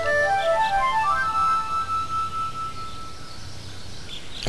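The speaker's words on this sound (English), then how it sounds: "And that's what the time flute sounds like." The Time Flute tune from the Pokemon Colosseum video game plays as a few soft, airy flute-like notes that drift and fade over a hissy backdrop, ending in a brief sharp burst.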